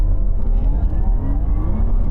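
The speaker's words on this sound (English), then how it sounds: "I'm just gonna pop the brake on there, my foot on the accelerator, launch mode," A 750-horsepower Porsche Taycan electric car launching hard in launch control mode gives a steady, loud electric whir with a faint rising motor whine, close and continuous, with no talking.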